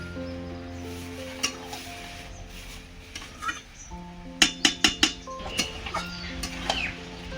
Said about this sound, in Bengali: এবার আমি চিকেনটা ভালোভাবে কষাতে থাকি